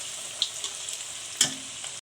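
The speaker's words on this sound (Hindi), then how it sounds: "आप देख सकते हैं कि हम फ्राई कर रहे हैं, ये कुछ ज़्यादा ही ब्राउन हो रहे हैं।" Macaroni and vegetable samosas frying in hot oil, a steady close sizzle and hiss with a couple of brief louder crackles and stirring touches.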